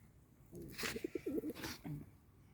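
Pigeons coo in a park in Zhytomyr, a near, soft rolling series of throaty coos lasting a couple of seconds over quiet outdoor ambience.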